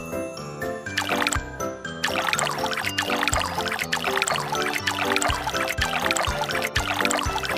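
Bright, tinkling water trickles and pours steadily in the Pororo dentist video game as the mouth is rinsed, sparkling splashes layered over light looping game music.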